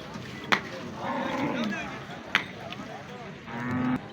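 Buffalo at a livestock market in Kharian, lowing in short moos amid crowd noise and chatter, with two sharp knocks or slaps standing out.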